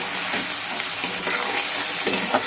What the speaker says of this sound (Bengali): মশলাটা একটু ভালো করে মিক্স করে নেব